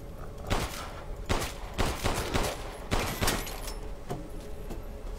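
Gunfire from the Resident Evil Village survival horror game: a run of sharp, loud shots in quick bursts, each followed by reverberant crash, over a steady in-game ambience with no talking.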